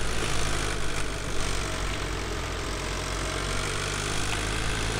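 A tractor engine idles in Farming Simulator 2013, a steady loud low rumbling drone that holds evenly throughout, with no talking.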